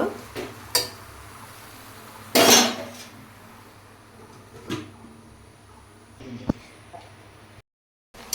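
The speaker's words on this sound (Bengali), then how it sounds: "নেড়ে চেড়ে এবার আমি ঢাকা দেব" A lid is set onto a pan of Malabar spinach greens cooking into chorchori, with scattered light metallic knocks, one loud clattering clank of the lid, then quiet kitchen stillness.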